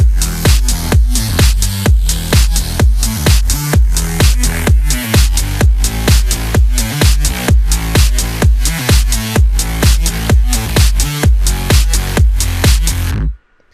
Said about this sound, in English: Today I'm going to make a tutorial of a dirty bass line.